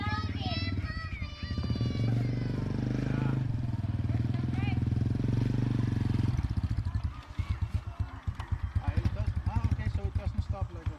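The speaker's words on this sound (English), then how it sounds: "So next day I'm going for a motorcycle ride." Motorcycle ride on a Philippine road with a passenger on the back, the engine a steady loud drone with rumbling texture while people talk over it throughout.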